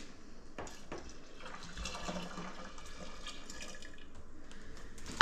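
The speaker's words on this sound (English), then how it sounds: "Add the rest of the water." Water pours steadily into a container while blackberry mead is being made. The flow is a soft, continuous splashing at moderate distance, with no talk.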